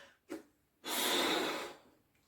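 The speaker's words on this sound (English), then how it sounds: "I'm going to blow it up." Breath blown forcefully into a balloon to inflate it: a short puff, then one long, steady, close rush of air that fades out.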